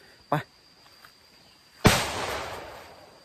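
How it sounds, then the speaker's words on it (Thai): A sharp distant crack, then a louder close gunshot that rings and decays over about a second and a half in a forest. "เฮ้ยพี่ได้ยินเสียงไหม เสียงปืนดังนั่นป่าทุกคน"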